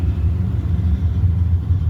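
A 2019 Camaro COPO and a 1984 Mustang GT at the Brainerd drag races in Minnesota produce a continuous heavy low engine rumble, loud and steady throughout the short stretch, with no voices heard.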